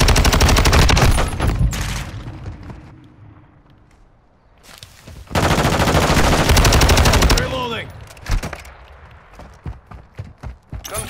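Automatic and rapid gunfire in Call of Duty: Modern Warfare II multiplayer on the Shoot House map, loud and close in dense sustained bursts, breaking off midway, then resuming with scattered shots and footsteps toward the end.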